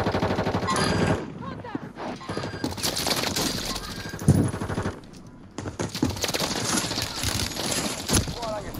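Machine gun fire in the video game Warzone on Rebirth Island, dense rattling bursts of automatic shots repeating throughout amid explosions and game effects, with voices talking over it.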